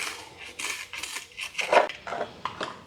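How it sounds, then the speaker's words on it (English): An Alocasia plant is worked out of its pot with a series of short hollow knocks and scrapes, moderately close, with no talking. "let me first start off by removing this plant from its pot"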